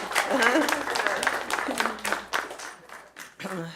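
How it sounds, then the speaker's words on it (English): Audience clapping at a Sunday church service mixed with voices talking over it, the applause steady but partly buried beneath the chatter. "Let's applaud her again."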